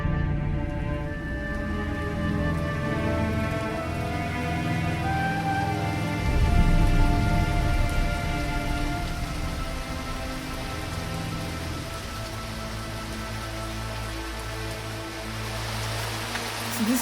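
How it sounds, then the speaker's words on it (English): Artificial rainfall installation at Expo 2020 Dubai, a dense, continuous patter of water drops hitting surfaces nearby, steady and loud for the whole stretch with a brief heavier swell midway. "So this is the rainfall which they have created there."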